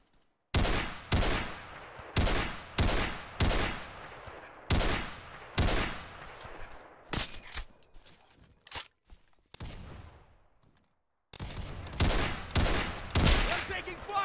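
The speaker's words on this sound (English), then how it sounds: "We're taking fire!" Gunfire from a rifle in the Roblox shooter Unit: Classified: a run of sharp, loud single shots with echoing tails, a few scattered cracks, a short pause, then another quick string of shots.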